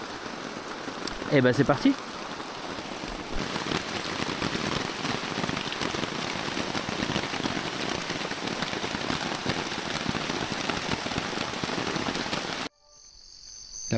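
Steady heavy rain pours down in a jungle, a dense continuous hiss of drops on leaves and surfaces that goes on until it stops abruptly near the end, with a few brief words spoken early on.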